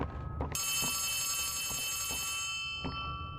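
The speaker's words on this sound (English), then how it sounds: "I really don't like the sound of that phone." A telephone rings in the horror video game Poppy Playtime Chapter 3, a shrill steady electronic tone sounding continuously with a few faint clicks or thuds beneath, fairly loud and without talk.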